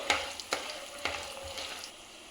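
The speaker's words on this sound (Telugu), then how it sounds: "బాగా వేయించుకోండి. గ్రౌండ్ నట్స్ అయితే యాడ్ చేస్తున్నాను." Groundnuts frying with urad dal in a hot pan, a steady close sizzle broken by several sharp scraping stirs, with no talking.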